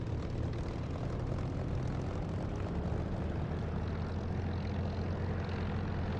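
A flight-sim aircraft engine drones steadily as the plane taxis onto a runway, a loud, continuous low rumble with a propeller-like hum that stays unchanged throughout, with no talk over it.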